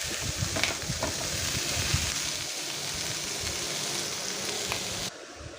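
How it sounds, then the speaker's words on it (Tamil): Tomatoes sauté in a pan with a continuous bright sizzle and hiss. The sound holds steady for about five seconds, then cuts off abruptly. "இப்போ இந்த தக்காளி நல்லா மசியை வெந்து வரட்டும் அது வரைக்கும் நல்லா வதக்கி விடுங்க"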